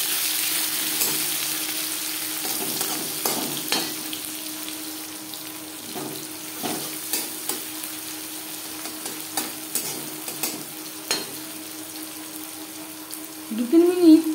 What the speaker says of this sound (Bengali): দু 3 মিনিট পেঁয়াজ ভেজে নেওয়ার পর